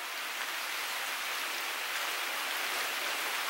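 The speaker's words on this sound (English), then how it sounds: "It's raining out" Rain falls outside as an even, steady hiss. It is faint and there is no talk over it.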